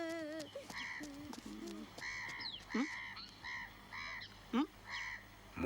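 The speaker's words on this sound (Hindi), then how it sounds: "ये मुर्गी किसकी है?" A hen in a village setting gives a string of loud, honking, nasal calls in short bursts, close and spaced irregularly over a few seconds, with a voice briefly heard at the start.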